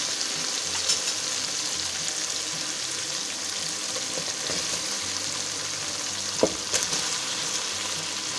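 Tinda and potato pieces fry in oily masala with a dense, constant sizzle and a few soft stirring knocks, close and steady without speech.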